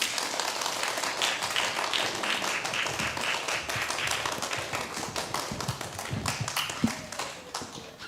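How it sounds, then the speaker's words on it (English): Audience applause welcoming musicians onto a stage at an evening event, steady dense clapping sustained for about eight seconds with a few sharper taps and thuds near the end. "Let's give them a round of applause to welcome them on stage"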